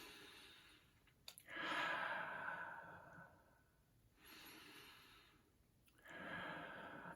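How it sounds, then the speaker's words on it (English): Slow, deep breaths are taken close up, three long airy inhale-exhale cycles with quiet pauses between, as a calming exercise. "I'll just do like deep breaths"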